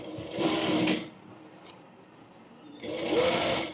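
Sewing machine stitching a frill on a frock, two separate bursts of steady running at close range with a quiet pause between them.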